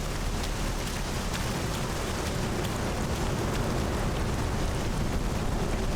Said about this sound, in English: as you can see just by the rain effects, they're slightly different